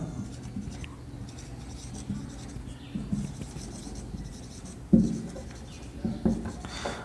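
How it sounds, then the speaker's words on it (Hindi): Scratchy, rubbing strokes of writing on a board during a classroom grammar lesson come in uneven bursts, close and moderately loud, with one sharper tap partway through. "जैसे मैं एक एग्जांपल लिखता हूं।"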